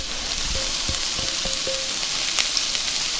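Steady crackling sizzle of onions frying in hot olive oil, close by, with a few soft clinks and scrapes over the constant hiss.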